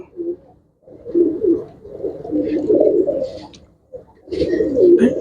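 Pigeons in a Punjabi bird seller's stock coo in close, loud bursts, several rolling calls separated by short pauses.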